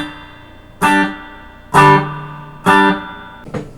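An electric guitar with a reverb effect plays three strong distorted chords spaced about a second apart, each leaving a lingering tail, then a softer fourth strum cut short at the end; no talking.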